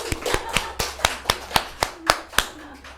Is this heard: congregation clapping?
yes